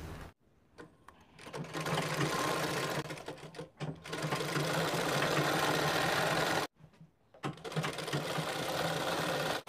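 A sewing machine stitches palazzo pants with a quarter-inch seam, running in long steady bursts of mechanical whirring with brief pauses between runs. A short spoken phrase comes near the end.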